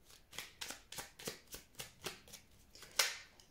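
Tarot cards being shuffled in quick, regular riffling bursts of papery slaps, about a dozen close strokes with a sharper snap near the end, no voice over them.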